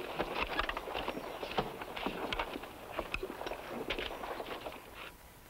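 A horse's hooves clip-clop in a steady, moderately distant rhythm, mixed with scuffs and faint background noise.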